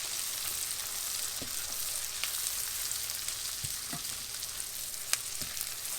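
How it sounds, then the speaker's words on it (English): Onions and garlic sizzle steadily in a frying pan over lowered heat, a constant close hiss broken by a few soft clicks and scrapes of stirring, with no talk. "Onions and garlic. Stir those around a little bit."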